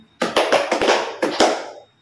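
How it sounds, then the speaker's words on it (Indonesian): A group claps hands in a classroom group-counselling exercise: several sharp, loud broadband claps in quick succession, roughly two clusters of three, close by, with no talking. "teman-teman tepuk tangannya 3 kali"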